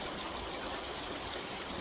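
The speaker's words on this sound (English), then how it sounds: "I am here at this creek." A mountain creek near the Chicago Basin and Twin Lakes flows with a steady, broadband rush and trickle, fairly soft and continuous throughout, with no talk.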